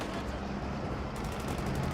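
Muffled battlefield gunfire and a Panzerfaust blast from Company of Heroes 2 combat against Panzer IV and T-34 tanks, a dense rumbling wash of explosions with a sharper burst partway through.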